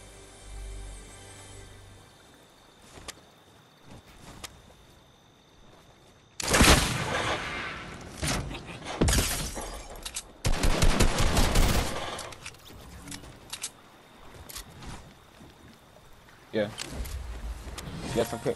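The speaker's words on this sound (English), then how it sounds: "Got some people shooting behind" Bursts of enemy gunfire in a shooter video game, rapid loud volleys and single shots in several clusters, with quieter game ambience between them and players talking over parts of it.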